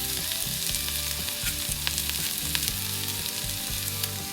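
Chopped tomato sautéing in a pan for a street-style veg curry, a steady loud sizzle with scraping stir strokes and occasional sharp pops, close and continuous with no talking.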